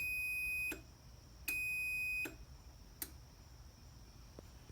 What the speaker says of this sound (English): And we have an alarm going off.